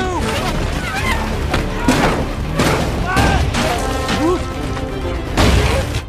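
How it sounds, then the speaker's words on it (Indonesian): Heavy booming 7.62 rifle shots, a grenade and thuds go off repeatedly amid chaotic action-film firefight noise and shouting voices, loud and close. "Setelah itu, orang Perancis tersebut menembaki Chris dan Luo Feng."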